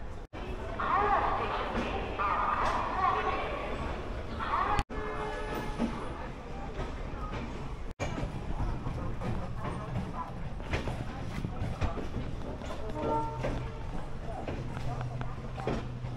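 Kamrup Express passenger train pulling out of a station, a steady rumble of rail noise and clatter running throughout with voices talking over it.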